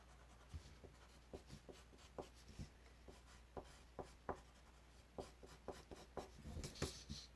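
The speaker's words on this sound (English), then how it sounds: "now take the blender pencil, horizontal at the base of the trees, and then vertical towards the top" A blender pencil strokes across grey paper in a landscape drawing, quiet close scratchy rubbing in short repeated strokes, each a soft scrape with faint taps, alone with no talk.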